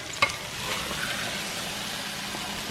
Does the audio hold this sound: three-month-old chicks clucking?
no